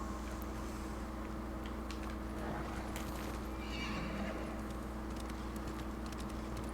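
A horse in the Ghost of Tsushima video game gives a clear whinny while hooves clip-clop steadily beneath, with faint game ambience around it and no talking.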